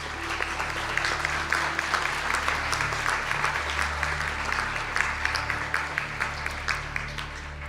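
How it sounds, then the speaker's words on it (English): A large audience applauds graduates at a spring conferring ceremony in Donegal, sustained dense clapping from a hall full of people holding steady throughout with no break. "Could our graduates stand for a round of applause, please?"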